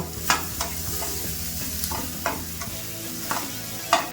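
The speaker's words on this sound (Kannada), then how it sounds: "ಒಂದು ಸ್ವಲ್ಪ ಕರಿಬೇವು, ಇದನ್ನು ಸ್ವಲ್ಪ ರೋಸ್ಟ್ ಮಾಡ್ಕೊಂಬಿಡೋಣ" Grated coconut and curry leaves roast in a pan with a soft continuous sizzle, while a spoon scrapes and stirs in irregular knocks against the metal, close and steady.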